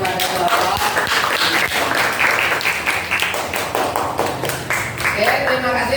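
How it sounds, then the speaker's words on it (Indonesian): Classroom audience claps for a presenting student group, a loud burst of dense hand clapping lasting throughout, with some voices mixed in. "kita berikan tepuk tangan kepada kelompok"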